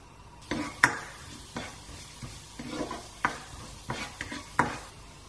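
Cumin seeds sizzle in smoking-hot mustard oil while a spoon stirs and scrapes the pan in several sharp strokes, a soft crackle running steadily underneath, close and fairly quiet.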